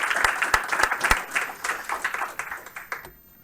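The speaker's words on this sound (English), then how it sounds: "another round of applause for everybody." Applause from a game studio team meeting, sharp individual claps from a small group, loud at first and then thinning out toward the end.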